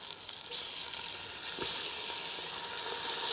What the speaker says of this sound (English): they're sizzling nicely as they go in